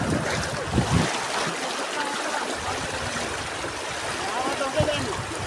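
A river stream flowing outdoors, a steady broadband rush of water at moderate loudness throughout, with some faint voices mixed in.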